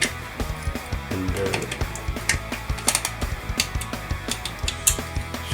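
A hard drive is screwed into a Verbatim NAS enclosure with a screwdriver: quick, close ratcheting clicks repeat in a steady rhythm, with a few louder metallic ticks and scrapes mixed in.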